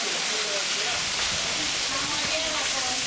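Steady roaring rush of falling water from a waterfall in Cyprus fills the whole clip, broad and loud, with faint voices of a crowd mixed beneath.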